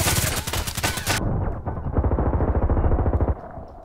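Rapid pistol gunshots in the online shooter Contract Wars, a burst of sharp cracks followed by a denser run of quick shots with echoing tails, loud and close, no voices.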